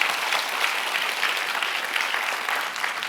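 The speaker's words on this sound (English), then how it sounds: "give yourselves a round of applause, please" A design forum audience applauds itself, a continuous, even roar of many hands clapping, loud and sustained from start to finish.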